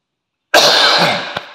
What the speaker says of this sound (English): Don't know why I cough in the kitchen.